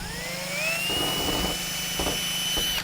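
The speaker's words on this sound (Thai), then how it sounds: "อันนี้เราก็เจาะให้ได้กึ่งกลางเลย" A power drill bores while solar panels (Poly 340 W, sixteen panels) are being mounted. Its steady motor whine rises in pitch as it spins up, then holds close and loud over a low hum.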